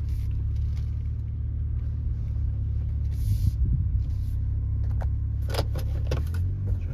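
A high-mileage 2000 Toyota Avalon XLS pulling off and driving, with a constant low engine rumble inside the car, a brief jingle of keys partway through and a few small clicks and rattles near the end.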